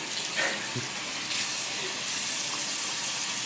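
Lukewarm water runs from a bathroom sink tap in a steady, close splashing stream, with small shifts in the flow and a few faint knocks as hands move under it.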